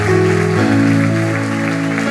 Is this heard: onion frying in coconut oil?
no